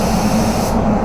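A paint spray gun set to 2 bar sprays a car panel inside a spray booth, giving a steady, loud, continuous hiss with no break across the short stretch.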